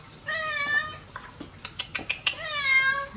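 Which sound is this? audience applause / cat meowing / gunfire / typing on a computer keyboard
cat meowing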